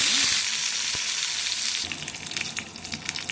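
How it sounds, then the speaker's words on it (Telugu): Green chillies and curry leaves dropped into hot oil along with cumin, cinnamon and dried red chillies, a loud close sizzle and crackle that bursts up at first, then settles into sputtering pops. "ఇప్పుడు పచ్చిమిర్చి, కరివేపాకు కూడా వేస్తున్నానండి."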